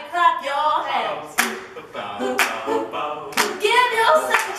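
An audience at a live sing-along of a soul song claps hands in uneven bursts, sharp smacks standing out among voices singing and talking.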